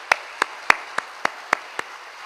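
Seven slow, evenly spaced sharp claps ring out in a quiet church, close and distinct with short gaps between them, sounding more like one person keeping time than a full congregation applauding.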